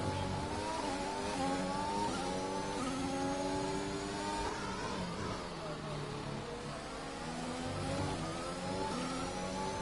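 A Ferrari Formula One car engine in a racing game screams at high revs, its pitch rising and falling through gear changes and corners, loud and sustained under a commentator talking.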